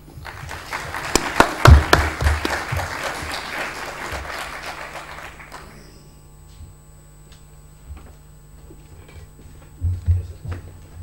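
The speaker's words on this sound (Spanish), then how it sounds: "Recibamos con un fuerte aplauso a don Javier Plaza." Audience applause at a talk on shared custody greets the speaker, a burst of clapping for about five seconds that fades out, followed by a few quiet taps and handling noises in a hushed room.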